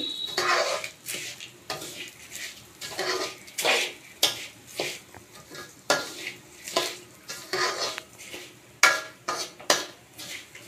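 Food fries in a pan while a utensil stirs and scrapes it in steady repeated strokes, each pass bringing a swell of sizzle and metal clatter, close and rhythmic, with no talking; the cooking is for Janmashtami puja at home.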